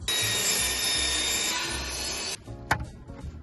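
Wood is sawn for a car camping platform bed, a dense continuous cutting noise for about two seconds that stops suddenly, followed by a sharp knock and brief rattling.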